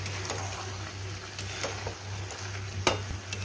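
Chicken curry sizzling and being stirred in a pan, a steady soft frying hiss with occasional sharp clinks and spatters, faint and close, alongside a low steady hum.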